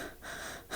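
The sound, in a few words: breathing sound effect in horror story narration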